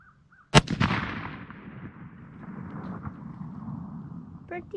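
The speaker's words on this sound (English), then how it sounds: "So I'm gonna shoot it again today, see what happens." A single loud muzzleloader rifle shot fired outdoors during deer season, a sharp close blast followed by a long rolling echo that fades over several seconds.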